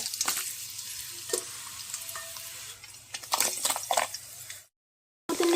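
Grated coconut fries in hot oil in a pan at the start of a chicken curry, giving a steady sizzle with scraping stir strokes over it, close by, before a brief silence and a final burst of sizzling.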